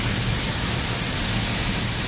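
Heavy rain pouring down, a loud steady wash of noise with no breaks or voices throughout.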